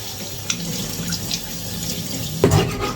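Running tap water splashes over raw chicken pieces being washed in a kitchen sink, a steady close stream with a sharper splash and knock near the end.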